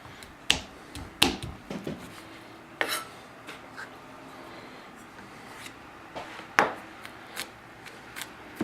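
A knife chops vegetables on a cutting board for a Greek-style pork marinade, giving scattered sharp knocks at irregular intervals, close and clear, with quiet gaps between the cuts.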